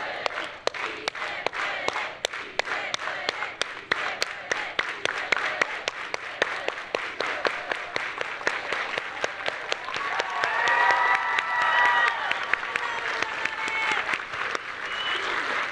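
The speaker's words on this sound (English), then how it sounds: "let's all do it together with an organized hand clap." A crowd at a migrant-program college event claps in unison, sharp regular hand claps building in tempo, then breaks into cheering and shouts over the rhythmic clapping toward the end.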